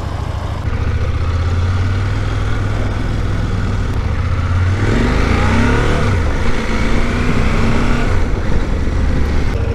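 CF Moto 800 MT Sport Plus motorcycle engine running steadily near, then revving up with rising pitch midway and holding a loud, busy drone to the end, with no talk.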